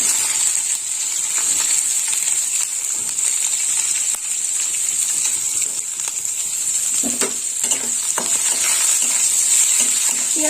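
Dried red chillies, cardamom, cloves, cinnamon and onion fry in hot oil in a pan with a steady, close sizzle, with occasional stirring clatter and spatter over the continuous hiss.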